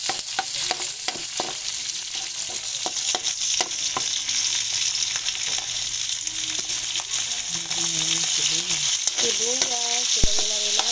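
Pork frying in a pan, with garlic being added, for a vegetable-and-pork dish: a constant close sizzle with scattered stirring scrapes and a few faint tonal sounds in the background.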